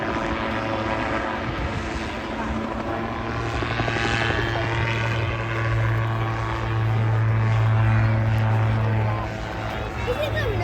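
An autogyro flies at the Blackpool airshow, a steady droning rotor and engine hum that swells slightly toward the middle and fades a little at the end, heard from a distance at a moderate level.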